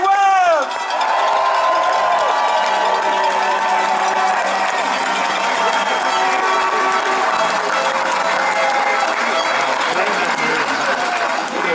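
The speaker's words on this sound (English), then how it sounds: "so I just want a huge round of applause for Danny." A large crowd at a Grey Cup rally claps and cheers for Danny, loud, dense applause that runs unbroken the whole time, with scattered shouts and a faint cowbell mixed in.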